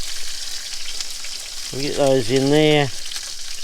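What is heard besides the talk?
food sizzling in a pan on a houseboat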